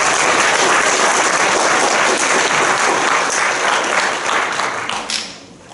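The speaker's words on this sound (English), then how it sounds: "And I think this is worth an applause for them." Conference audience at the FSE 2018 rump session applauding, loud, dense sustained clapping from a room full of people that tapers off at the end.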